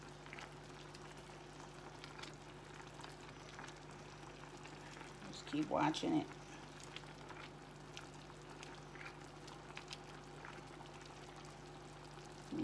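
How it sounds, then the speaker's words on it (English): Chicken wings fry in a skillet with sweet, sticky adobo sauce, a steady soft sizzle and bubble throughout, with a brief louder stir or pour near the middle and a quiet voice speaking. "You can see the chicken is cooking."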